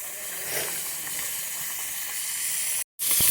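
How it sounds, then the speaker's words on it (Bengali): Sylheti-style dried fish frying in hot oil gives a steady, close hiss and sizzle that holds evenly, cuts out briefly near the end, then resumes. "মাছগুলো ভাজা হয়েছে এখন নামিয়ে নিই"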